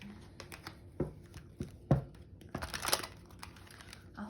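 Tarot cards being shuffled close by in quick, soft riffles and papery crinkles, with a few sharper bursts in a quiet room.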